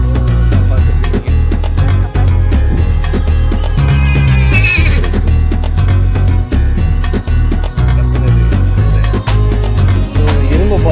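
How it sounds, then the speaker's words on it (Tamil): Horse at Manora beach, a loud whinny ringing out over dense, busy background noise with a few clip-clop-like knocks spread through the sound. "குதிரை"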